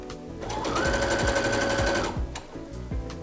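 A sewing machine stitches a sweatshirt collar in one loud, rapid, even run of about two seconds, close up, with a few soft handling knocks before and after.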